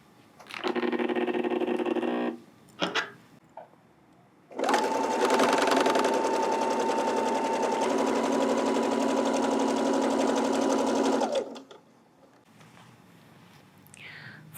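A sewing machine edge stitches a shirt placket in short bursts, then runs steadily for about seven seconds, close and clear.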